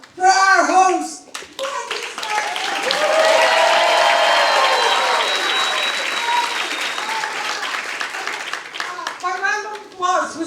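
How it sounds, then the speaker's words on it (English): A comedy festival audience bursts into sustained applause and cheering for the host, loud and continuous, with a voice speaking before and after it. "Can we give it up for our host?"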